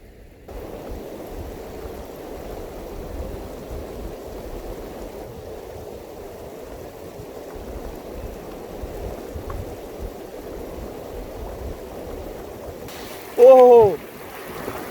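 A stream flows in a steady, low wash while someone wades across it barefoot, the rushing water holding constant throughout, with a sharp high whistle-like sound near the end.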